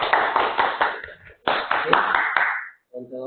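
Applause during a school webinar session on positive culture, several bursts of close, bright clapping in two rounds separated by a brief gap, with a voice starting right after.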